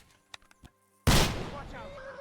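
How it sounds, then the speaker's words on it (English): A single sharp, loud gunshot in a first-person shooter game rings out abruptly after a few faint clicks, followed by a long reverberant decay with a voice faintly underneath. "It's clear who was shooting."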